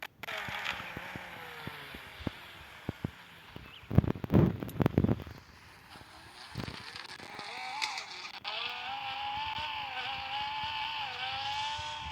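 A car revving hard at full throttle in a car parking video game, a steady rising engine drone with a noisy burst of rumble partway through, then a continuous high whine to the end.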